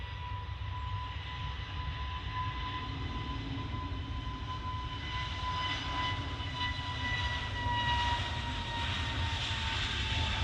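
A jet airliner on approach to Manchester Airport gives a steady, continuous engine roar with a high whine, holding constant and slowly swelling toward the end on a dark, grey morning.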